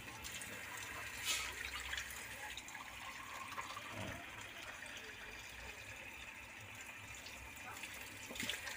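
Water is poured into a cooking pot for pancit bato, a steady, fairly faint gushing and splashing flow that runs the whole time, with soft background noise.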